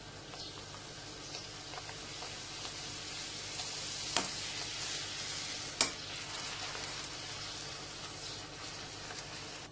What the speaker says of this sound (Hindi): अब इसमें डालते जाएं और साथ साथ फ्राई करते जाएं।